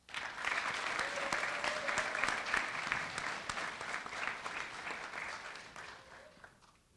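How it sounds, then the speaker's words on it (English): A crowd at a National Honor Society induction ceremony gives a round of applause, broad steady clapping from many people, fairly distant and even, fading away over the final second. "Please join me in thanking them with a round of applause"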